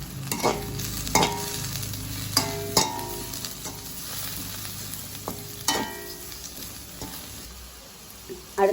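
Mixed vegetables for vegetable noodles sautéing in a pan with chilli powder, a steady sizzle broken by scattered clinks and scrapes of a spoon stirring, close and moderately loud, with no talking.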